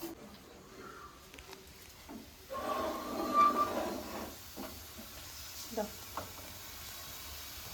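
Soft sizzling and crackling from turmeric, chili powder, coriander and cumin powder frying in a pan, rising for a few seconds then settling into a quiet hiss with faint clinks.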